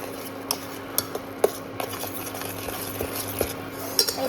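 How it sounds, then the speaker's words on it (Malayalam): A spoon stirs masala into noodles in a pan, making light, irregular metallic clinks and scrapes over a faint background hum. "നമുക്കിനി സ്പൂൺ കൊണ്ട് ജസ്റ്റ് ഒന്ന് മിക്സ് ചെയ്യാം"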